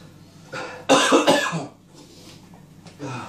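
A person coughs hard twice in quick succession after eating a moruga scorpion chilli, then clears the throat with a few softer rasps in a quiet room.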